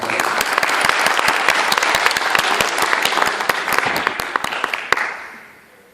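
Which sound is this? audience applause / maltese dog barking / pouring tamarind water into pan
audience applause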